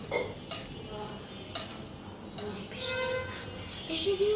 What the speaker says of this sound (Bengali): এখন এটাকে ভালোভাবে মিশানো হচ্ছে